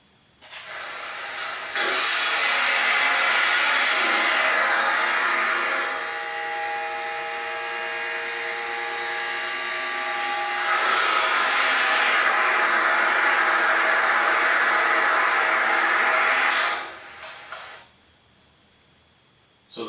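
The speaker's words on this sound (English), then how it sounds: "this is the Y delta starter running the elevator from the first floor to the second floor" An elevator hoist motor on a Y-delta starter runs steadily from the first to the second floor, a loud, even whirring hiss that holds for about fifteen seconds, shifts in tone partway through, then cuts off.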